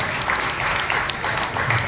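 A church congregation claps together during a worship service, steady dense applause throughout with voices mixed in beneath it.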